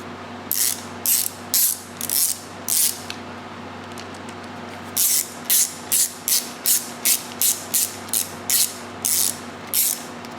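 A ratchet driver clicks in short bursts as new screws are fastened into the front sprocket cover of a 2-stroke Yamaha YZ125 motorcycle, two separate runs of rhythmic ratcheting over a steady low hum.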